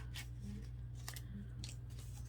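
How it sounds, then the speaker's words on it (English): Small scissors snipping paper, three quick crisp cuts close by against a constant low hum, with no talking. "I'm just gonna use my little scissors"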